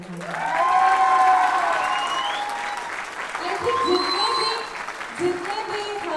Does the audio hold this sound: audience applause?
yes